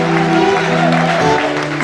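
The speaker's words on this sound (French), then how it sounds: "Est-ce qu'encore une fois les puissants peuvent applaudir pour Jésus," A church congregation applauds during a worship seminar service, a steady wash of clapping with a hum of voices and music underneath, continuous and fairly loud for the whole moment.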